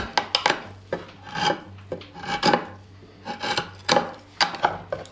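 Drawknife shaving wood bevel down with a rolling action, a series of close rasping strokes in an uneven rhythm, each a short scraping pull, with no speech.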